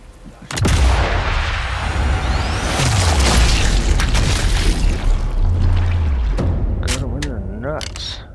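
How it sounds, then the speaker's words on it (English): Loud booming blasts from an anti-tank weapon in Sniper Elite 5 on a Festung Guernsey mission, a heavy explosion at the start followed by rumbling low-end impacts and mechanical clatter, with a voice talking over much of it. "I think this is an anti-tank weapon, ain't it?"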